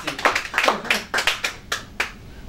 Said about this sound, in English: round of applause for our candidate